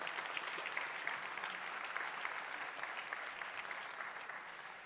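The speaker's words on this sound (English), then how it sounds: "Please, another round of applause for these remarkable students and their teacher." Audience applause for students and their teacher at an Innovation Africa 2018 event, a steady, dense wash of many hands clapping from start to finish, moderately distant and even in level.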